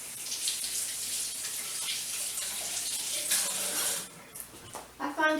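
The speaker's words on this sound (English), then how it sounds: "Rinse the onion off." Kitchen tap water runs steadily into a sink while an onion is rinsed under it, a close hissing flow that breaks into splashier, uneven gurgles near the end.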